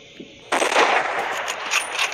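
A sniper rifle shot in the Hunting Sniper mobile game bursts out suddenly after a quiet start, a loud, broad blast that rolls into a sustained, rumbling echo and tail.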